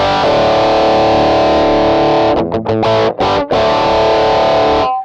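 Electric guitar played through a Rockman-style unit in its boosted distortion mode: a loud, thick sustained chord, then a few choppy muted stabs, then another held chord that cuts off at the end.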